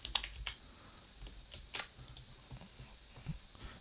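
C# code being typed on a computer keyboard: quiet, irregular key clicks and taps with short pauses between bursts, close by, and no voices.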